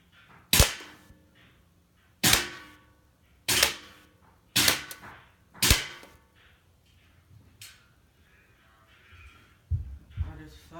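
An airsoft gun fires 0.3 gram aluminum BBs, five sharp, close snapping shots spaced about a second and a half apart, with faint handling and impact noises between them.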